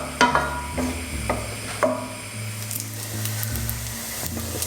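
Pancetta sizzles steadily in a hot pan, a close, continuous frying hiss punctuated by a few sharp crackles and stirring scrapes, with no talking.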